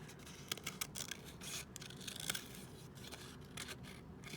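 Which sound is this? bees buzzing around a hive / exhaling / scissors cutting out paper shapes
scissors cutting out paper shapes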